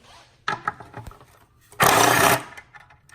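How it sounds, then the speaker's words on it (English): Brief tool bursts while 10 mm bolts are removed from a Fiat 500 Abarth, a short ratcheting rattle and then a louder half-second whir of a powered driver, close up with no speech. "Next, we need to remove these 3 bolts using a 10 millimeter socket."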